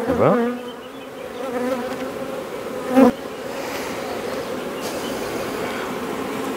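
Honeybees buzzing steadily from an opened hive colony, a dense continuous drone close by, with a louder bee passing near at the start and another around the middle.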